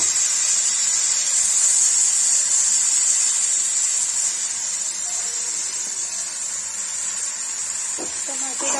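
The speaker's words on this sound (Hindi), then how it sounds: "इसमें टमाटर डाल दूँगी" Tomatoes go into a hot pan already holding spices, and a steady bright sizzle and hiss carries on throughout at moderate loudness.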